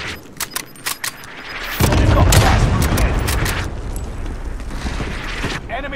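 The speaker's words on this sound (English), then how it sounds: "Allied cluster strike arriving." An allied cluster airstrike in a military video game: a sudden heavy roaring blast of explosions that rumbles on for several seconds after a few sharp metallic clicks, with radio voices around it.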